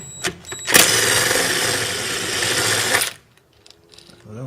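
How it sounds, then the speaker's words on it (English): A ratchet or air tool whirs loudly for about two seconds while undoing an 8mm nut on a race car, starting after a few short clicks and stopping abruptly, followed by faint small taps. "I'll try and undo that 8mm nut there."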